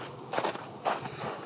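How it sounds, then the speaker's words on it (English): Footsteps coming through the trees, two or three soft crunching steps in quick succession over a faint, steady outdoor background. "I swear I heard some footsteps."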